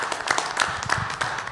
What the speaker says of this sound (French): Alors, on applaudit Mme Martine Côté.